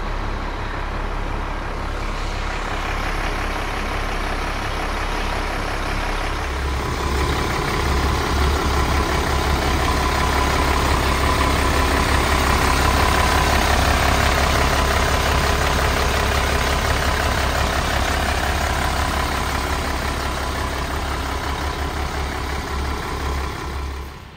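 A Lorena intercity bus idles at a roadside restaurant rest stop, its heavy engine producing a steady low rumble that grows slightly fuller partway through and continues without any talking.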